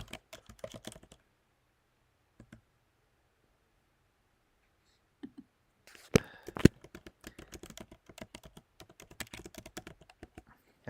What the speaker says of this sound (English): I apologize if my typing is a bit loud.